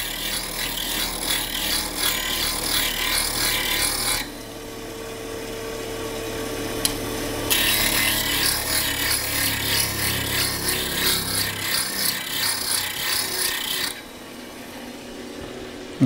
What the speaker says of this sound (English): Now I'm just going to finish grinding this while I turn it off